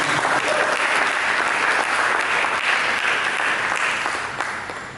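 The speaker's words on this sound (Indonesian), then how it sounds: "Berikan tepuk tangan dulu bagi Yesus." A church congregation applauds for Jesus during a sermon, a dense, steady wash of many hands clapping together, sustained and loud before tapering off slightly at the end.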